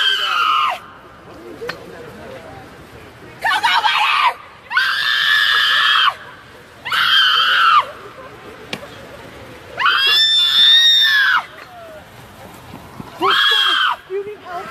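A woman screeches in a string of long, loud, piercing bursts of about a second or more each, separated by short gaps, close to the listener.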